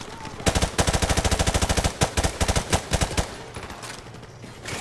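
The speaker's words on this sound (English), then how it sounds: "Shooting through the plywood." Automatic gunfire in Modern Warfare Remastered, loud bursts of rapid shots with brief pauses between them, trailing off into single shots before fading to quiet.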